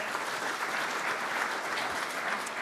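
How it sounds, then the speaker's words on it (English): An audience at a Rotary club meeting applauds, producing a dense, steady wash of clapping that stays even in level from start to finish, close and without voices. "So give her a round of applause."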